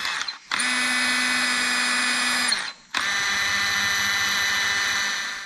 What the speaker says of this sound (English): I got the valves cleaned up with the wire brush